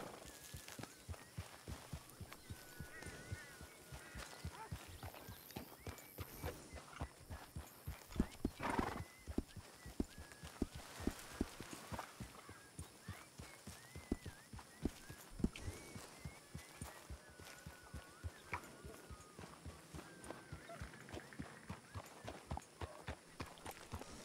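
Horse hooves clip-clop in a steady, continuous rhythm in the Red Dead Redemption game RedM, with an occasional neigh breaking through; the hoofbeats stay fairly faint and even throughout.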